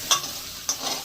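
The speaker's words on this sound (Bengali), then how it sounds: "এবার ঝিঙেটা ভেজে নিচ্ছি" Ridge gourd frying in a pan, a soft steady sizzle close by with two sharp scraping stirs of a spatula, short and without any talking.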